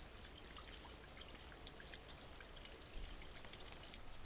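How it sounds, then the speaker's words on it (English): Steady, dense patter of rain drumming on a tarp, constant and close, with no voices. "Rain on a tarp feels like it could be a roof of some kind"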